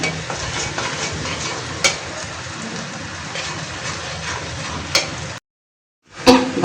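Potatoes and water spinach sizzle steadily in hot oil while being stirred, with a continuous crackling hiss and a few sharp scraping clicks, then a brief silence before the sizzle returns.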